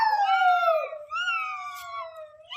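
A voice imitates a cat's meow in two long, sliding, wavering cries, loud and close, with a brief break between them.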